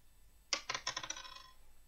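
Dice rolled across a table for a damage roll during a tabletop Dungeons & Dragons game: a sudden, close clatter of quick hard clicks that rattles on for about a second and then settles, with nothing else heard.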